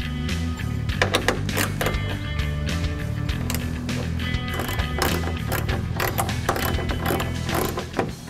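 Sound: ratchet removing turn signal housing bolts

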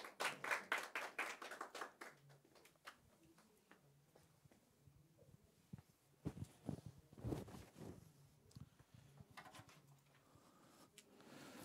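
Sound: audience applause welcoming a speaker

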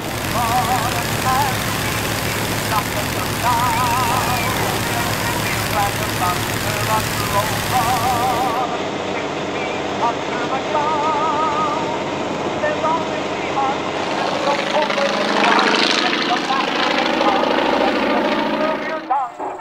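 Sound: WW1 triplanes and Bristol fighter aircraft flying in a dogfight

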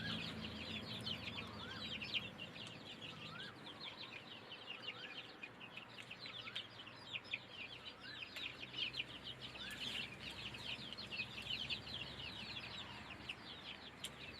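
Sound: chickens clucking while being fed

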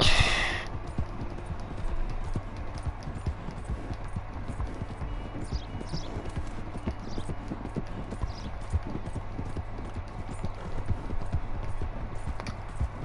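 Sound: horse hooves galloping, from a video game

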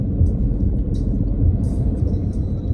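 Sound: car driving on the road from Sanremo to Nice

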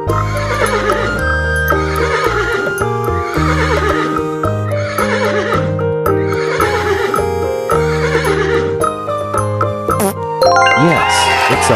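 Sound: horse neighing

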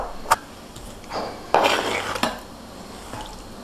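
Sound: finely chopping guacamole ingredients with a knife

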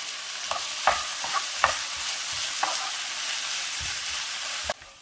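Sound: bitter gourd sautéing in oil

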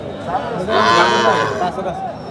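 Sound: cow

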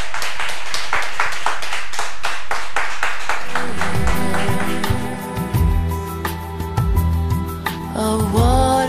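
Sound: audience applause for a performer

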